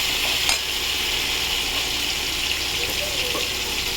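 Spices frying in a pan give off a continuous loud sizzle, with a light scrape or two of stirring.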